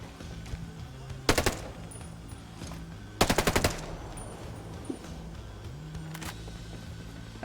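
Automatic gunfire in the shooter game Ghost Recon Breakpoint, two rapid bursts of several shots each plus a few isolated single shots over a low steady game background, no speech heard.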